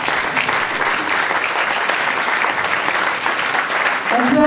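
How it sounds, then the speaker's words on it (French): Sustained, dense applause from an audience filling a conservatory hall after a slam performance, clapping steadily throughout. "On peut les applaudir."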